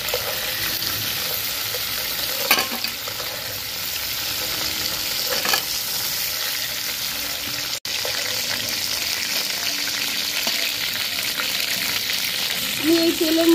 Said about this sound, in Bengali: হালকা করে আমি কাঁকড়াগুলো ভেজে নিয়েছি